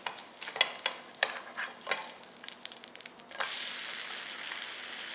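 An egg mixture fries in oil for a pizza, with scattered crackles and pops from close up, then a sudden, louder, steady hiss that continues to the end, with no talk.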